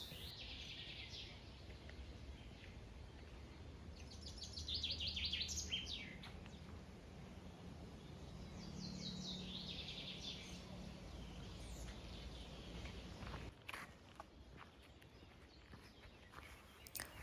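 Birds chirp and twitter in short bursts in a park in Korsun-Shevchenkivskyi, fairly faint and somewhat distant over a calm outdoor background.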